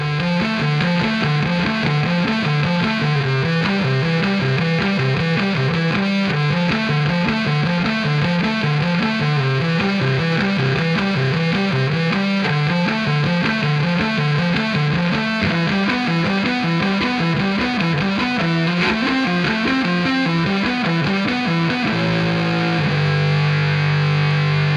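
Heavily distorted electric bass plays a loud, driving riff of repeated notes with effects coloring, continuing without pause and shifting to a lower sustained note near the end.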